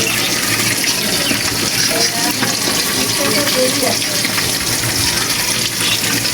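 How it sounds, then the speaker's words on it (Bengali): Catla fish sizzles in hot oil, a steady dense crackle and hiss running without pause, close and loud, with faint background voices underneath. "এই কাতলা মাছ ফ্রাই হচ্ছে।"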